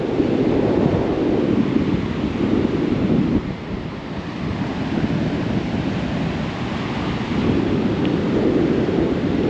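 Strong, gusty wind roars and buffets the microphone nonstop, with a brief lull partway through before the blasts pick up again.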